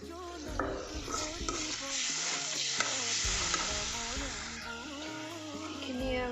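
An eggplant mixture for Assamese-style bengena bharta is stirred in a sizzling frying pan. Steady frying runs under repeated scraping and clinking strokes of the stirring utensil, up close and without pause.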